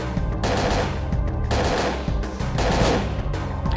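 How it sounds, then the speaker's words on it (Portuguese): Rapid gunfire from the video game Parasite Eve 2, three dense bursts of loud shots with sharp reports, close and continuous, with no talking over them. "Com 3 tiros só."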